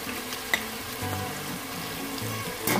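A spoonful of spice hits hot oil in a pot for a vegetable stew, producing a soft, close sizzle with a couple of brief utensil clinks, one early and one near the end.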